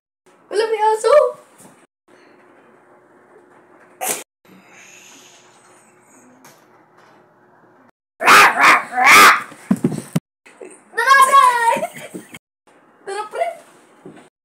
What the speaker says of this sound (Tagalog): Wala, may aso.